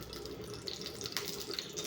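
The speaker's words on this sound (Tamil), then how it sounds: "இதில் எடுத்து வச்ச நெய்யை கொஞ்சம் வந்து ஊற்றிக்கலாங்க" Ghee trickles into a small vada pan on a stove, a faint, steady pouring and splashing sound lasting under two seconds with no speech.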